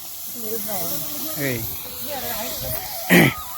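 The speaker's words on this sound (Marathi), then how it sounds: "तेल टाकलं आईनी. शेंगदाणा टाकून घेतलं आईनी." Oil and peanuts sizzle in a pan as poha is made, a steady hiss running under a nearby voice, with a sharper burst of sizzle near the end.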